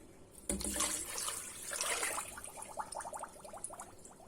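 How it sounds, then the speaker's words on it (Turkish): Water pours into a pot of sugar for şambali dessert syrup with a splashing rush that settles into a gurgling, bubbling trickle. "Suyumu ekliyorum."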